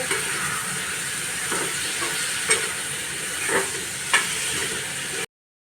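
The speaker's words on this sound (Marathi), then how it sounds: "व्यवस्थित सगळं तेलात परतवून घेते।" Ingredients stir-fried in oil in a pan, a loud hissing sizzle with occasional soft spatula scrapes, close, ending abruptly.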